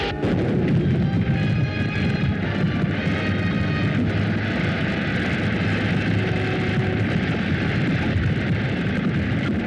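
Film explosion bringing down a cliff: a loud, sustained rumbling blast with dense crackling debris and a low roar lasting several seconds, with no talk.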